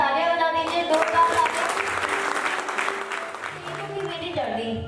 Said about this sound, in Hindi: आप प्लीज इनके लिए एक बार तालियां बजा दीजिए, जोरदार